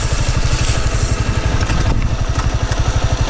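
A Honda CG Titan motorcycle engine idles steadily up close, its low, even rumble pulsing in a fast regular rhythm with faint clatter over the top.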